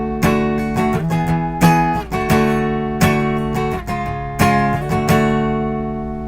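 An electric guitar strums chords on three strings, with the other strings muted by the fretting fingers. The chords ring out in a lively rhythmic pattern, some sustained and some choppy strums, loud and close with no talk.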